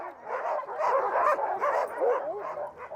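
Several sled dogs bark and yip together in a steady, fairly close chorus with some whimpering, continuing throughout without pause.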